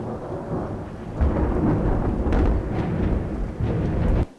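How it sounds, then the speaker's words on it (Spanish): Thunder rolling and rumbling through Ordesa canyon in the Pyrenees near the Góriz refuge, echoing off the rock walls as a loud, continuous low roar that surges in waves, with rain hissing beneath it. "es el sonido de un rayo, un trueno que cae en el refugio de Góriz, en el cañón de Ordesa, en el Pirineo"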